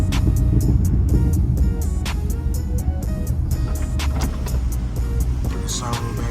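Heard from inside the car, a Dodge Hellcat engine rumbles through its exhaust pipes as a loud, continuous low throbbing drone, with a voice briefly audible over it.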